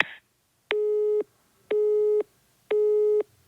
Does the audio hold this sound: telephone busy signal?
yes